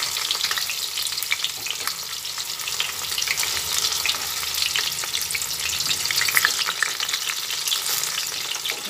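Jackfruit pieces fry in hot oil in a pan, a dense, continuous sizzle with crackling bursts and occasional stirring, close and loud throughout with no voices.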